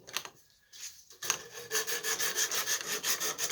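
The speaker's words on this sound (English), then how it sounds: "I've got a piece of 100 grit sandpaper that I've glued a strip of duct tape to the back of it." 100 grit sandpaper backed with duct tape rubs over wooden chair tenons in quick, steady back-and-forth strokes, close and clear, after a few brief scuffs and a short pause at the start.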